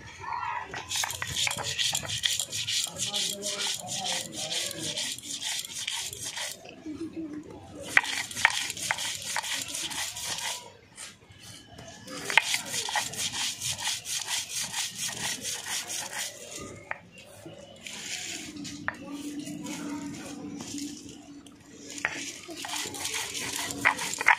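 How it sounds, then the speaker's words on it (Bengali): Mustard seeds are ground by hand for a mango mix with steady, rhythmic scraping strokes of stone against stone. The grinding comes in long bursts with brief pauses and stays close and fairly loud throughout. "আম মাখার জন্য সর্ষে বেটে নিচ্ছি।"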